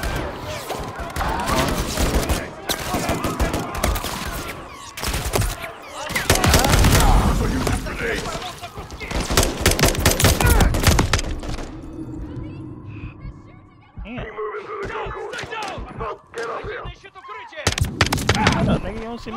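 Heavy gunfire in Call of Duty Modern Warfare 3, loud dense volleys and rapid bursts piling up, then easing into scattered shots, with talking mixed in.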